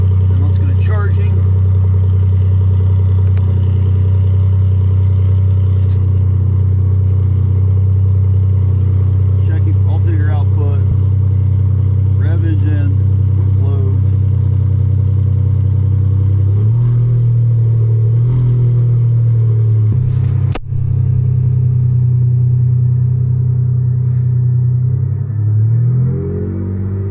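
A car engine revs up to about 2,500 RPM under load from a battery analyzer test, a loud, steady low rumble that holds, dips briefly, then climbs again.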